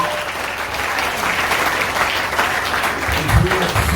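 A church congregation at a Sunday service claps in a steady, dense round of applause, close and even throughout, with a faint voice underneath.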